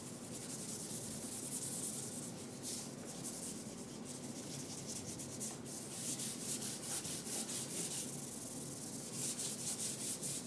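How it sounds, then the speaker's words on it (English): A painted dresser being sanded by hand with 220-grit sandpaper, a continuous close rasping rub with steady back-and-forth strokes throughout, moderately quiet, no voices. "I have 220 sandpaper. I'm gonna lightly hit the edges, go over the flat surfaces, and sand the image below"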